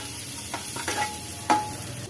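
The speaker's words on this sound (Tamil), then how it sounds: "இப்போ ஒரு வெங்காயத்தை பொடியை நறுக்கியிருக்கேன். இதையும் சேர்த்து வதக்கிக்கலாம்." Chopped onion sizzles gently in hot oil, with a few short scraping stirs of a spoon across the pan.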